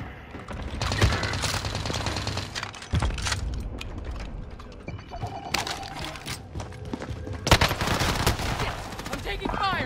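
Rapid gunfire bursts and single shots ring out in the Call of Duty video game, mixed with game effects and short bits of player talk throughout.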